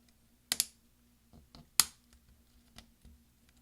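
A replacement key on a 13-inch Early 2009 MacBook Pro snaps onto its clips, two sharp close clicks followed by several fainter taps as the key is pressed and tested, with no voices.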